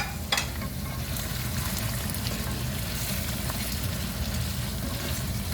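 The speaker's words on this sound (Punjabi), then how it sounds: "ਚਿਕਨ ਨੂੰ ਹੁਣ ਅਸੀਂ ਫਰਾਈ ਕਰਨ ਡਏ ਆ।" Chicken sizzling and frying in a kadahi with chopped ginger and garlic, a steady close hiss of hot oil with a few stirring scrapes, continuous and fairly loud with no talking.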